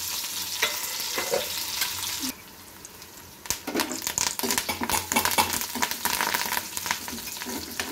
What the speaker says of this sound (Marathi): लसूण, मिरच्या आणि कढीपत्ता छानपैकी तेलामध्ये होऊ द्यायचं आहे आपल्याला, मस्त फ्राय करून घेऊ।